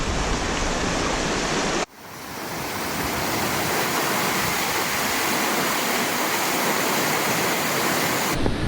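Steady broadband rush of a river flowing near hikers finishing a long trek, loud and continuous with a brief dip in level partway through, no voices.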